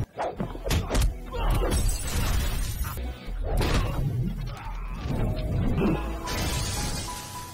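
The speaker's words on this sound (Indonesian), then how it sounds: "mendadak ia tertimpa bangunan yang tadinya hampir roboh akibat letusan pistol" A building that was nearly toppling caves in onto a man after a pistol shot in a film scene, heard as a loud, dense crash of shattering debris and heavy thuds rolling on for several seconds under a dramatic score.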